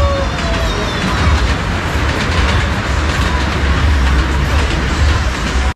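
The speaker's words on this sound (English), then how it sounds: "So this is like where the train station is." A train rumbles loudly and steadily at a station in Bad Dürkheim, Germany, with rhythmic rail clatter, and a brief high squeal rings out near the start.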